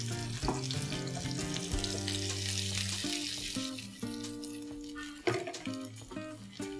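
Potatoes fry in hot oil with a continuous crackling hiss, layered over a steady low tonal hum from the stove or room and occasional sharper pops.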